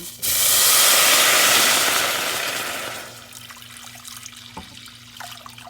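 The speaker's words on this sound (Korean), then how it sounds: "그리고 여기에 물 1리터를 부어줄게요." A litre of water gushes into a cooking pot for soup stock, a loud hissing pour lasting about three seconds that fades off, followed by quieter kitchen handling sounds.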